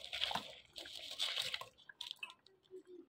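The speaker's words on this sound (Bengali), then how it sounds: "আমার এখানে চাল সেদ্ধ হয়ে গেছে, এবার গুড়গুলোকে ঢেলে দেবো।" Jaggery poured into pot of boiled rice while making payesh, a wet dripping, squishing pour with soft splashes in bursts, fairly quiet and close, no voices.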